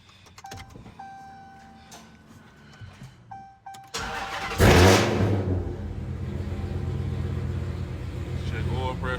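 A Dodge Hellcat, freshly filled with seven quarts of oil after an oil change, cranks and starts, then settles into a steady, rumbling idle close by, following some clicks and light handling noises before the start.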